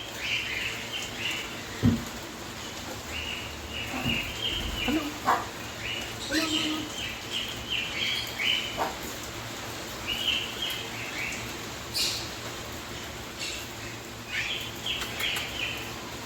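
Pet birds chirp and call in short bursts while perched and playing on their cages in an indoor room on a rainy day, over a faint background hum; a dog may bark once.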